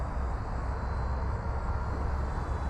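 An Arrows Bigfoot 1.3 m STOL radio-controlled plane flying under throttle, giving a steady, even electric motor drone with no talk.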